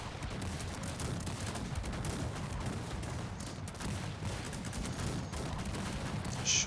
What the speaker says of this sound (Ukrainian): гармати дали залпи